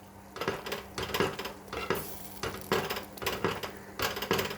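A spoon scrapes and knocks around a pot of bottle gourd sago payasam on the stove, regular loud strokes repeating about twice a second, close and alone without talk.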